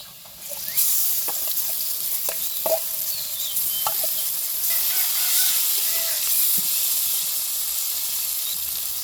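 Potatoes and bitter gourd hitting hot oil in a pan: a steady, loud sizzle and hiss, with a few faint clinks of stirring over the top.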